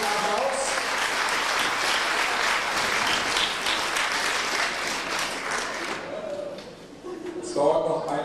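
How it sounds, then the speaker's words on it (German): An audience applauds warmly as a fanfare band is welcomed at a 2004 district competition in Königslutter. Dense, sustained clapping fills about six seconds before fading, then a few faint voices and sounds follow. "Mit einem herzlichen Applaus."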